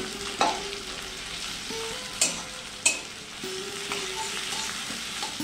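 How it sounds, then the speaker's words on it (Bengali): Two large sliced onions deep-frying in hot oil until browned and crisp, a steady close sizzle broken by a few sharp scrapes of a stirring spoon. "পেঁয়াজগুলোকে বেরেস্তা ভেজে নেব"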